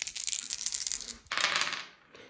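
Dice clattering and rolling across a tabletop during a Kill Team wargame match, a dense rattling run of small hard clicks that pauses briefly, then a second burst of tumbling before settling.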